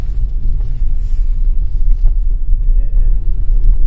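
A vehicle running a slalom course in rear-wheel-drive high range, oversteering, with a heavy continuous engine and tyre rumble that swells slightly through the turns, loud and close, heard from inside.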